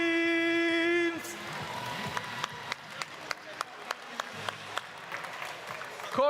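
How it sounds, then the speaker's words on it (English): Audience applause at the FTC European Premier event 2026 robotics competition, Escher Division, honouring three teams: a voice speaks first, then a crowd claps steadily for several seconds with a run of sharp individual claps. "One big round of applause for these three teams."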